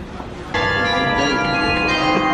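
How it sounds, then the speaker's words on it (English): Church bells ring out in the town of Gorinchem in the Netherlands, starting abruptly after a moment of quieter street ambience and then sounding loud and sustained, with bright overlapping chimes. "Even the bells are ringing for all that delicious cheese!"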